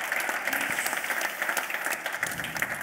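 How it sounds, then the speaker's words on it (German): A studio audience at a regional sports talk show breaks into dense, steady applause, many hands clapping at once and holding an even level throughout with no pauses. "Und erstmal großen Applaus"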